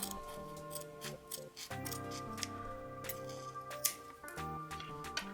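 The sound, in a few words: scissors trimming fabric seam allowance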